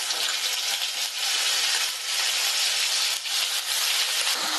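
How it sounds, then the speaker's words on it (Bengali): Ground onion paste sizzles and hisses in hot oil with whole garam masala, a continuous bright frying noise, close and steady, while cooking jackfruit kalia. "এবার আমি আগে থেকে বেটে রাখা পেঁয়াজটা দিয়ে দিচ্ছি।"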